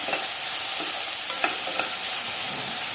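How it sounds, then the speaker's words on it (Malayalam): Green chilies are stirred into a vegetable thoran frying in a pan, with steady sizzling and a few sharp scrapes of the spoon against the pan, close and alone. "പച്ചമുളകും കൂടി ചേർത്ത് നന്നായിട്ടൊന്ന് ഇളക്കി കൊടുക്കാം."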